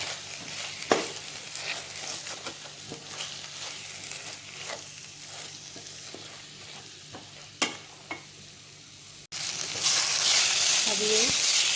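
Turmeric and coriander powder sautéing in ghee in a pan for chicken ghee roast, a steady low sizzle with a few stirring scrapes, swelling to a louder, brighter fry near the end.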